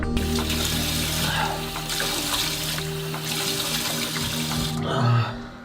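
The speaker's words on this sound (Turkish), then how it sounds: "Bol bol yüzümü yıkıyorum ki beni şoklasın diye." Tap water runs into a sink in a steady, close stream as someone washes their face, cutting off near the end with a brief splash.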